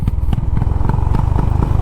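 A Honda CB350RS motorcycle, 2023 model, being ridden with a loud, close, thumping single-cylinder exhaust beat in a rapid steady rhythm, heard alone.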